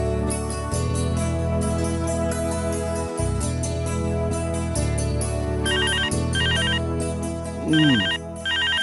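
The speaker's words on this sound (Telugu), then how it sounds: "ఆ ఫోన్ ఎవరో చూడు" Telephone ringing with a repeated electronic ringtone, loud and close, its tonal pattern cycling over a sustained musical background.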